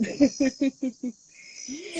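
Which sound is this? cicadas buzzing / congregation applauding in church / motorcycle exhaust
cicadas buzzing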